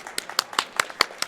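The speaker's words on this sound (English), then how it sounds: "Please excuse me for turning around and clapping there." A commentator claps his hands in a quick, even series of about seven sharp, close claps.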